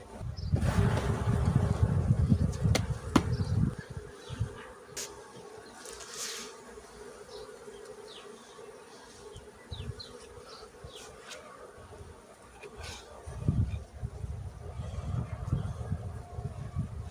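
Honeybees of a weak, queenless hive buzzing close by, a dense droning hum that swells and fades with handling noises and bumps on the frames.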